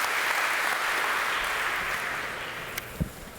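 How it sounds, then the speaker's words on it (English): Festival audience applauding a startup pitch onstage, a steady, dense wash of clapping throughout that eases slightly toward the end, with a couple of sharper knocks near the finish. "Big round of applause."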